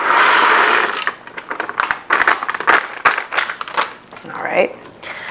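A pound of dry black-eyed peas pours into an Instant Pot with veggie stock, a loud close rushing rattle at first, then scattered clattering bursts and rustles as the pouring continues.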